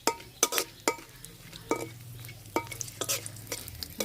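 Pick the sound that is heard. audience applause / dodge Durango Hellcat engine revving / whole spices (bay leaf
whole spices (bay leaf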